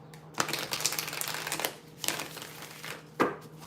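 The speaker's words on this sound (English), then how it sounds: "One more shuffle." A deck of tarot cards is shuffled close up, with crisp, riffling bursts of papery rustling and a sharp slap near the end.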